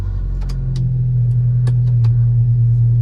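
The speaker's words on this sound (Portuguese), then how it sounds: "eu vou até ligar pra vocês verem que o carro tá filé" A Volkswagen Tiguan with a Stage 2 tune runs steadily at close range, its loud, even engine drone filling the whole stretch with a few faint clicks over it.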